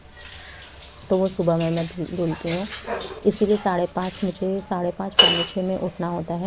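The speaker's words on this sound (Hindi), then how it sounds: "एक कुत्ते की भौंकने की आवाज़ आ रही है, तो पड़ोस में किसी का पालतू कुत्ता है" A neighbour's pet dog barks in the background of a home, partly masked by someone talking in the foreground and the clatter of dishes being washed.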